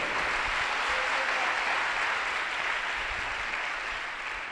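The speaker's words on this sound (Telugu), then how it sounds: "కొట్టగలరు ఒకసారి చప్పట్లు" An audience at a prayer meeting claps loudly and continuously, a dense sustained burst of applause filling the whole stretch and tapering slightly toward the end.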